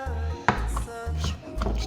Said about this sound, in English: I'm just slowly bringing my knife, pinching it together, chopping it up